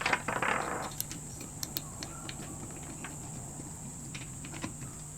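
A Stuart Turner 10H model steam engine, flywheel not yet keyed to the crankshaft, is turned over slowly by hand, giving faint, scattered mechanical clicks and ticks against a quiet hum in a workshop.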